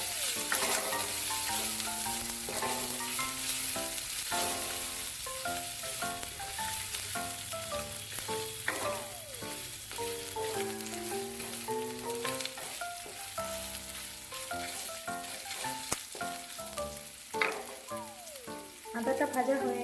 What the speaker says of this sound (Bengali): এবার ওই তেলেই আদা বাটাটা দিয়ে দেব। দিয়ে আদাটাকে কিছুক্ষণ তেলের সাথে ভেজে নেব।